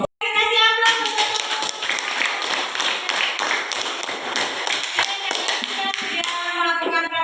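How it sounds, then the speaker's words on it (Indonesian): Classroom applause for a student group, steady clapping from many hands over several seconds, with children's voices underneath. "Kasih aplaus untuk"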